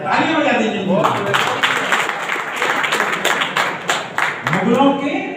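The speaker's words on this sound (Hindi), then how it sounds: "ताली बजा दीजिए।" An audience at a Swadhinta Amrit Mahotsav talk bursts into dense applause that swells and fades over several seconds, with a speaker's voice at the start and end.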